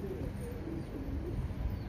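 Domestic pigeons cooing at a rooftop loft, soft low repeated coos over a steady outdoor background hum, faint and somewhat distant.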